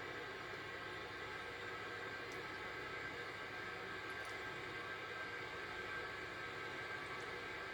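A steady, even roar from a BAE 146 airliner in a flight simulator as it slows and taxis at Wellington Airport after landing, a continuous broadband engine noise with no breaks.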